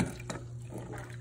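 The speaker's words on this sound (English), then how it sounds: "You want to dunk that in twice." A metal ciborium dunked into a bucket of warm rinsing water gives a brief close splash and slosh of water, alone and without talk.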